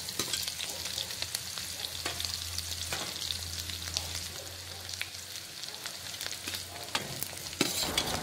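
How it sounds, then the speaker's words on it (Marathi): Garlic, curry leaves and onion frying in a pan, a steady crackling sizzle with sharp spatters and occasional stirring clicks, moderately quiet and with no talk. "आणि कांदा टाकून मग चांगलं परतून घ्यायचं आहे"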